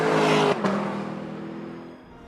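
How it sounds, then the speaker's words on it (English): A Lexus LC 500's 5-liter naturally aspirated V8 revs hard and loud, then cuts off abruptly with a brief blip before the engine note settles and fades down toward idle. "The 5-liter naturally aspirated V8 produces 491 horsepower, 398 pound-feet of torque, and one of the best V8 soundtracks ever"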